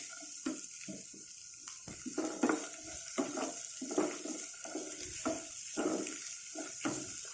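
Green chillies fry in hot tempering oil for a bottle gourd and chana dal curry, a steady close sizzle broken by frequent stirring scrapes and clicks, with no talking.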